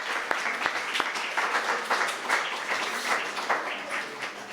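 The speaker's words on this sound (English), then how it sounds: "Give a round of applause." Audience applause at a live pub politics evening, a dense, steady patter of many hands with a few louder nearby claps at the start, continuing evenly for several seconds.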